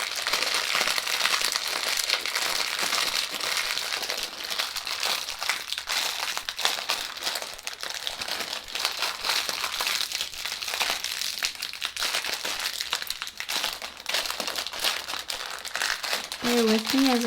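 A crinkly candy wrapper crackles and rustles continuously up close for many seconds, with a brief voice near the end.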